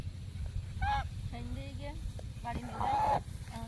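A domestic goose honks several times in short, nasal calls spread across a few seconds, moderately near, with voices and low background noise underneath.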